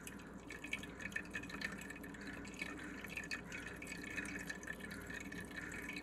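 Saskatoon berry juice dripping and trickling from a cloth bundle being twisted and squeezed by hand, a steady close patter of drips and liquid running continuously without pause.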